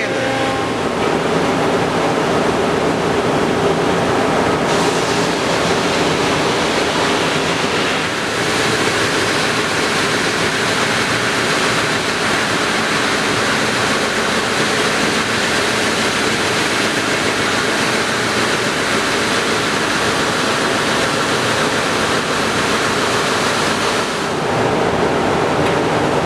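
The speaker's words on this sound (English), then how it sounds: "now it's on to the sander" A power sander runs on live edge walnut slabs, a loud, continuous broadband whir and rush that holds steady close by for the whole stretch, with only slight shifts in tone. No voices.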